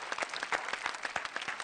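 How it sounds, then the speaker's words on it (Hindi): An audience at a Hindi comic poetry show claps in a short, quiet round of applause, with individual claps distinct and fairly dense. "इसके लिए और जोरदार तालियां होनी चाहिए"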